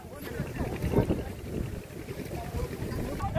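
A motorized bhutbhuti trawler at a bathing ghat on the Ganges in Hooghly gives a low, steady engine rumble under close talking voices and some wind noise.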